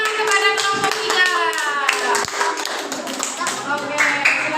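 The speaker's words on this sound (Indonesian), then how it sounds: "beri tepuk tangan kepada kelompok 3" Schoolchildren in an elementary classroom clap for a presenting group in a burst of applause. Voices sound over and between the claps, and the clapping thins out toward the end.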